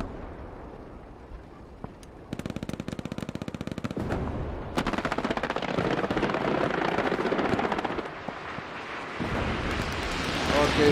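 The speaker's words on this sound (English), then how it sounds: "I'm throwing some strafing around there." An aircraft strafing run in the World War II shooter Hell Let Loose, with rapid bursts of machine-gun fire, then sustained rumbling engine roar and explosions, loud and close, with voices heard briefly.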